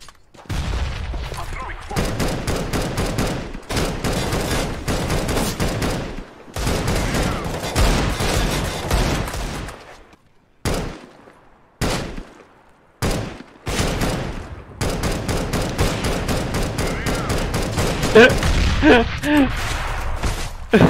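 Video game gunfire aimed into the ground: long bursts of rapid automatic shots, loud and close, broken by short silences and single shots, with people talking over parts of it.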